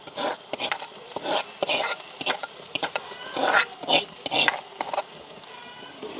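A spoon works through fried okra with garlic, onion, sauce and salt in a pan, making repeated scraping, clattering stirring strokes close up over a light sizzle.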